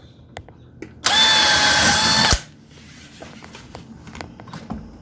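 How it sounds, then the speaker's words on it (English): A power drill drives screws behind a door's weather strip while a prehung exterior door is installed, whirring in one loud, steady burst lasting just over a second, close by, then quiet tapping and handling noises follow. "so I'm going to drill behind this weather strip in a few spots"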